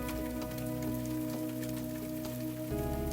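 Rain falling on a village house roof, a steady dense patter with scattered drop hits under a faint sustained musical drone, fairly quiet and continuous.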